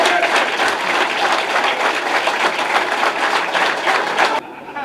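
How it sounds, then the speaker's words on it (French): Loud, dense applause fills a hall for a departing lawyer at the end of a bar association strike in Port-au-Prince, sustained clapping that cuts off abruptly near the end. "je vous demande de vous applaudir"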